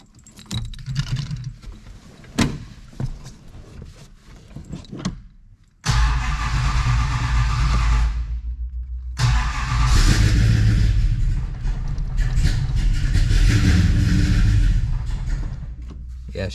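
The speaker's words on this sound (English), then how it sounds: "let's see if the car will fire up." After some clicks and rattling, the General Lee car's engine, which needs adjusting, cranks and catches, then runs loudly with a few revs before settling into a rough idle.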